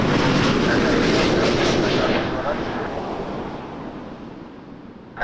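A jet airliner lands at Toronto Pearson Airport, a loud broad roar of engines and rushing air that slowly fades and thins over several seconds, ending with a short thump.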